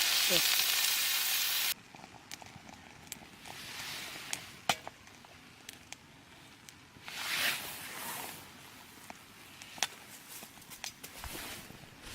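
Beef kielbasa sizzles on a camping grill during a rainy trip, a steady close frying hiss broken by scattered clicks and knocks, with a swell of louder crackling partway through and brief voices nearby.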